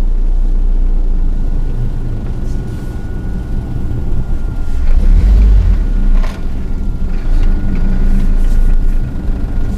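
An ENWIX all-terrain vehicle crawls over rough terrain, its engine a steady, loud low rumble throughout with a heavier surge near the middle.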